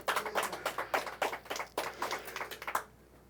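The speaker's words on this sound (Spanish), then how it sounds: "un aplauso para el Eterno" A church congregation claps in a brief irregular burst of hand claps, fairly faint and roomy, which stops abruptly after about three seconds.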